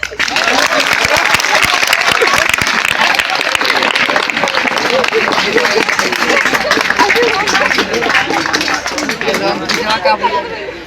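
Clapping from a school audience mixed with lively crowd chatter and babble, loud and continuous throughout with voices heard alongside the hands.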